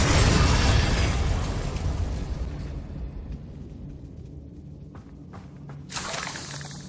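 A Confringo spell from Hogwarts Legacy goes off as a loud fiery blast that decays into a lingering rumbling crackle, followed by a smaller burst near the end.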